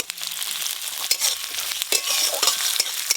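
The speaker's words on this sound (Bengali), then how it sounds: "এবার নোটে শাক ভাজার জন্য পেঁয়াজ কুচি দিয়ে দেবো।" Chopped onion fries in mustard oil with dry red chilli and five-spice, giving a bright crackling sizzle that is steady and close, with occasional stirring scrapes.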